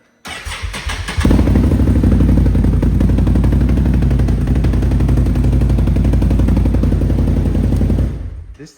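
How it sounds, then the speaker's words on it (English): A 2024 Can-Am Gen 2 850 ATV with a Yoshi exhaust starts and runs at a steady, very loud idle. The deep rumble stays near and constant for several seconds before cutting off. "Here's a comparison to my 2024 Gen 2 850 with the Yoshi on it."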